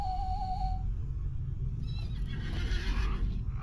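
A horse whinnies in Lord of the Rings Online, a shrill neigh rising over a low steady in-game rumble, trailing into a shaky nickering whinny toward the end.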